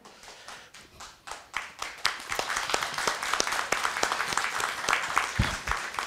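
An audience at a university future-strategy briefing breaks into applause, starting as scattered hand claps and swelling into steady, dense clapping, with a few sharp nearby claps standing out.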